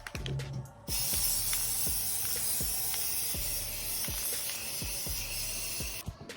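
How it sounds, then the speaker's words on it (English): Continuous hiss of a paint spray gun applying primer to a car, close and steady, with faint rhythmic clicking underneath and short pauses at the start and end. "now we're finna go spray the other coat of primer"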